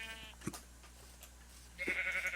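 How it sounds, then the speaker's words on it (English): Minecraft sheep bleating, a short wavering bleat at the start and another at the end, moderately loud over a faint steady game ambience, with no talking. "There's a white sheep, but that's not one I want."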